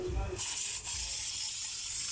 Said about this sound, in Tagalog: Sprayan muna natin ito ng brake cleaner.